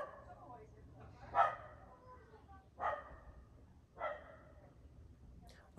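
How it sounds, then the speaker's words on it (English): A neighbor's dog barks three times, single muffled woofs spaced about a second and a half apart, moderately distant against a quiet room hum. "This is the dog of the neighbor."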